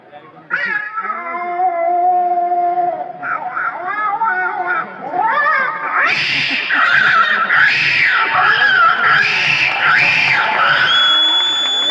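A voice imitates two cats fighting: drawn-out meows give way to loud, rising and falling yowls and screeches, close and continuous.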